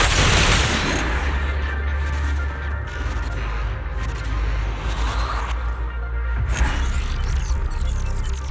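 Sustained gunfire in the Zenless Zone Zero video game: dense, loud rapid shots and booms rolling continuously with heavy low-end rumble and a sharp burst near the end.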